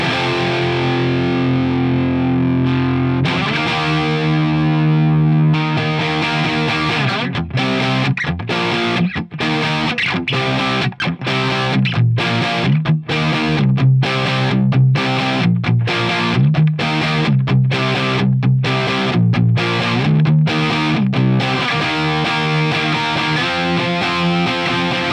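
An electric guitar played through a Marshall 800 amplifier with a distorted punk tone, loud and continuous, with sustained chords giving way to rapid choppy strummed rhythm, alone without any talking.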